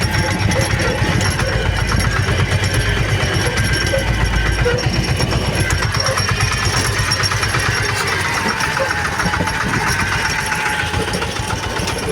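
A tractor with a pump-driven sprayer rolls slowly across stubble spreading herbicide, its engine a steady, loud, close mid-pitched drone with a knocking chug throughout and no speech.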